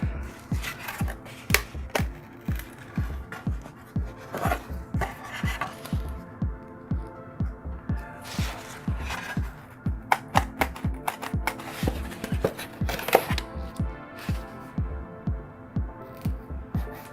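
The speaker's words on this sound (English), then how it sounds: "what I'm going to do here is going to cut across the top of this coal pile" Repeated snipping and cutting across the top of a model railway coal pile on an instant-building backdrop, a close, steady series of crisp cuts and scrapes with brief pauses, no talking.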